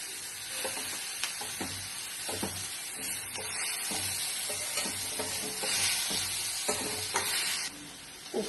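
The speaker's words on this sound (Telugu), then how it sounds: "ఉప్పు అంతా చక్కగా కలిసేలాగా కలుపుకుందామండి." Boiled toor dal with salt being stirred in a pan, a steady soft sizzle beneath repeated scraping and knocking of the spoon against the pan.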